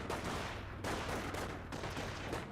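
Dense bursts of rifle and machine-gun fire in the World War II strategy game Company of Heroes, a continuous loud fusillade with sharp breaks between volleys.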